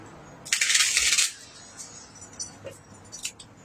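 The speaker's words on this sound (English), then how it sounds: "that was a bad shuffle. Let me try again." A quick burst of riffling cards lasting under a second, followed by a few faint soft taps and clicks in an otherwise quiet room.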